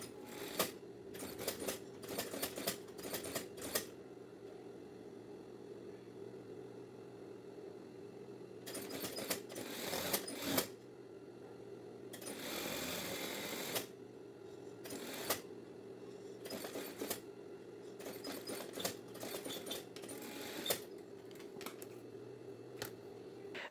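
A sewing machine stitches the collar of a women's lab coat, with short bursts of fast mechanical stitching separated by pauses, quiet and close.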